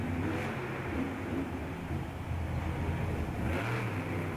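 Monster truck Hooked, run by Monster Trucks Unlimited out of Virginia Beach, revs its engine in a Monster Jam arena show at Little Rock, a loud continuous roar with swells near the start and end.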